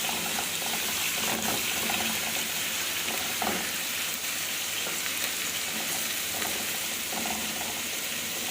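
Finely chopped onion frying in a piece of fat and a little oil for okra stew, a constant loud sizzle with faint scraping of stirring throughout, no voices.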